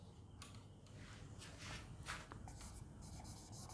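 A teacher writes on a board in a series of soft, scratchy strokes with short pauses between them, quiet against a low room background.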